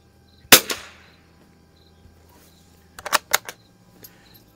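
A Winchester 52D rifle fires Browning Pro22 .22 LR target ammunition: one sharp, loud crack, then a quick cluster of fainter clicks and knocks a few seconds later against a quiet background.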